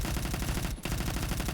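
MG36 machine gun fired in the Phantom Forces video game, a rapid continuous burst of shots with a brief break partway through, loud and close.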